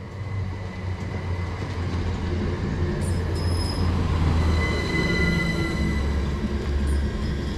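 A Class 387 electric train pulls into a station platform on the Hitchin to Kings Lynn line with a steady low rumble of wheels, and thin high brake squeals come in as it slows near the listener.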